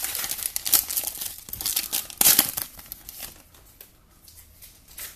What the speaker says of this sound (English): we'll start ripping some of these